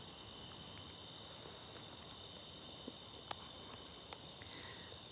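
A night chorus of crickets and tree frogs, chirping in a steady high drone with occasional faint clicks, heard alone and at some distance.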